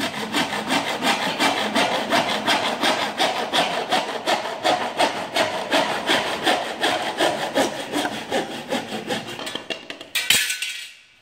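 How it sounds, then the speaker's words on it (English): A PVC hand saw cuts through plastic drain pipe in quick, steady back-and-forth strokes, close and fairly loud, ending with a sharp snap as the cut finishes. "So what I'm going to do is use the PVC saw."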